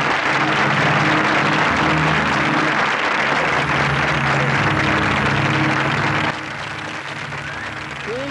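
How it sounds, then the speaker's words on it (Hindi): Loud, sustained crowd applause fills the room, dense clapping that eases slightly toward the end. "जोरदार तालियां"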